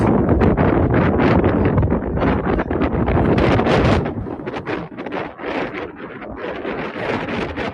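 Strong wind on a mountain peak buffets the microphone in loud, gusty rushes, easing slightly partway through but continuing throughout.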